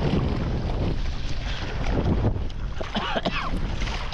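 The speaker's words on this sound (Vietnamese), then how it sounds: "Gió quá." Strong wind buffeting a microphone at sea while hauling a trap in stormy weather, a continuous loud roar with gusts and water noise throughout.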